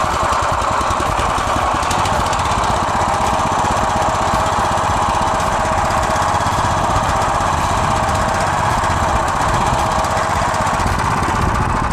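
A DTZ walk-behind tractor engine runs loud and close while planting potatoes, a continuous rough knocking drone with steady vibration throughout and no talk.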